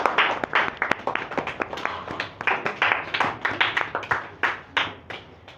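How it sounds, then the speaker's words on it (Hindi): Audience applause welcoming a teacher at a yoga championship ceremony in India: a steady, fairly close burst of many hands clapping, rising and falling in dense rhythmic waves for several seconds. "तो आपका जोरदार ताली के साथ स्वागत करेंगे"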